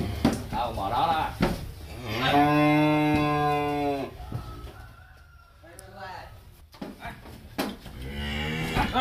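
Angus, Charolais and Brahman breeding cows moo on a farm in Ba Tri, Vietnam, with one long loud moo plus shorter lowing calls nearby, while people talk before and after.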